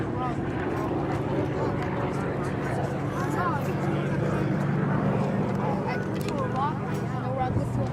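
A WWII A-26 Invader bomber flies past at the 2009 Randolph AFB airshow, its engines producing a steady, rumbling drone that holds at a fairly constant loudness throughout, with faint scattered background sounds.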